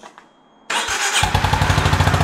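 A Honda GB350S 2025 single-cylinder motorcycle with a fairly simple exhaust fires up after a quiet moment and settles into a fast, elevated idle, a loud steady thumping pulse close by.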